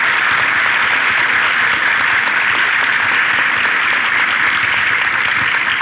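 A studio audience in Ataşehir bursts into dense, sustained applause as a relationship-quiz show opens, steady and loud clapping throughout, with no talking.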